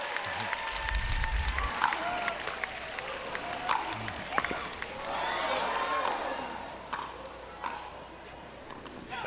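Crowd applause follows a long rally in a mixed doubles gold medal pickleball match in Charlotte, a broad wash of clapping and cheering rising and swelling over several seconds under a commentator's voice.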